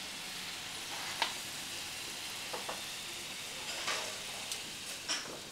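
Mushrooms and other hot pot ingredients for a vegetarian dish frying in a pan, giving a steady soft sizzle with scattered small pops and crackles, fairly quiet and without speech.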